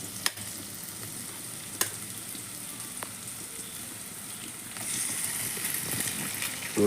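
An egg fries in a hot pan, making a continuous crackling sizzle with a few sharp clicks early on. The frying swells louder and brighter toward the end.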